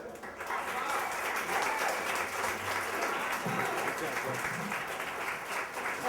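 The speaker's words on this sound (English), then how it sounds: "Clap, everybody." Full audience applause at a story slam, a thick, continuous roar of clapping that holds steady for several seconds, with a voice faintly heard underneath.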